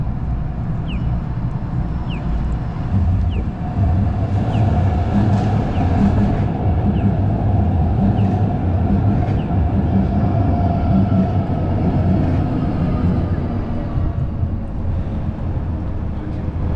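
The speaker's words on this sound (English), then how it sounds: "There's another train coming, so let's catch that." A train rolls through downtown Calgary in winter with a continuous heavy low rumble, loud and near, that holds steady throughout, with faint high squeals and clatter over it.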